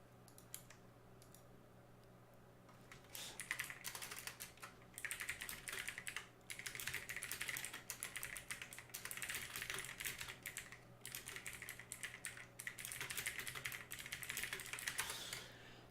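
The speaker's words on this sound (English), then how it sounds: "Yeah, I probably shouldn't be typing to my opponent." Rapid clicking keystrokes on a computer keyboard during an online Magic: The Gathering match, coming in bursts of quick typing with short gaps, close but fairly quiet over a low steady hum.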